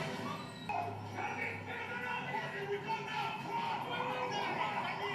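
A dog whimpers and yips after being kicked in a TV episode scene, with soft whining cries mixed under background voices and score.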